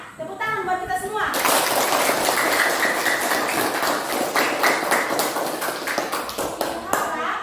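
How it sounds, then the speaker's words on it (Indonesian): Applause from a classroom audience of teachers after a group presentation, a dense wash of many hands clapping that starts abruptly and holds steady, fairly loud and close, with brief voices mixed in at the start. "Tepuk tangan buat kita semua."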